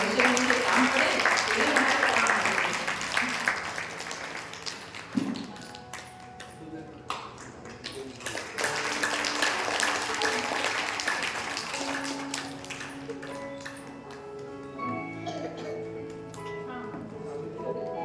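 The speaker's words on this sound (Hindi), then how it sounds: "तो एक बार तालियां बजाइए" Audience clapping at an LKG class graduation ceremony at Gyan Deep School in Mathura, a scattered, uneven patter of hands over a hall's murmur, with a few tones and voices mixed in toward the end.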